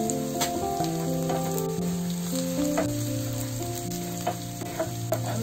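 Pre-roasted spices, including cumin, coriander and chili powder, sizzle briefly in hot fat for a Punjabi-style dal tadka. A continuous crackling fry runs under background music, with occasional small stirring clicks and no talking.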